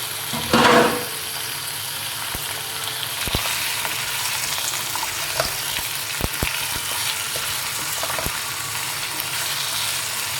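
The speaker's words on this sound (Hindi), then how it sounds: "अब इसमें डालेंगे अपना चिकन और इसको अच्छी तरह भून लेंगे" Chicken pieces fry in cooked onion, ginger and garlic paste for biryani, a steady close sizzle with a loud burst as the meat hits the pan, then occasional clinks of stirring; no one speaks.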